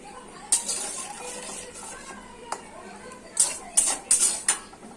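Cooking spoon scraping and knocking against a pot while poppy seed paste is stirred into potatoes for Bengali aloo posto, a few sharp metallic clinks clustered near the end over quiet background.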